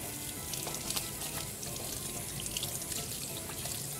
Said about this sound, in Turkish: Ben bir elimi yıkayayım.